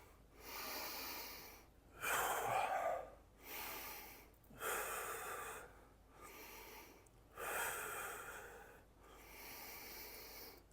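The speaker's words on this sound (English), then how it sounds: "We're actually able to do that corrective breathing by breathing into the concave side of our curves." Slow corrective breathing exercise for posture alignment, breathing into the concave side of the spinal curves: about six long, close breaths in a steady rhythm, each a soft rush of air separated by short quiet gaps, with no talking.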